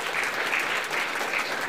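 Congregation applauding in church during a sermon, a brief burst of steady, dense clapping, loud and close, with no speech over it.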